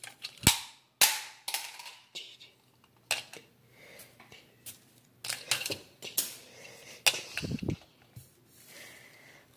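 Rapid sharp toy-gun style shots in a mock school shooting game, about a dozen cracks in irregular bursts, loud and close with brief gaps between them, no talking.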